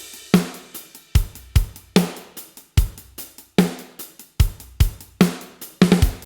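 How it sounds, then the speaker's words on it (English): Rock drums from the GGD One Kit Wonder Aggressive Rock kit play alone in a heavy groove, with punchy kick and snare hits and crashing cymbals ringing out in a steady, loud, close pattern. "we added the drums, which sound like this"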